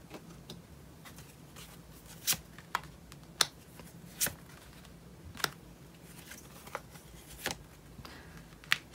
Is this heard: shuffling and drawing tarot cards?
yes